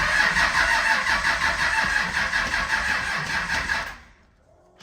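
A Cummins diesel with a hot-wired VP44 injection pump cranks steadily and loudly on a restart attempt for about four seconds, then cuts off into near silence without catching.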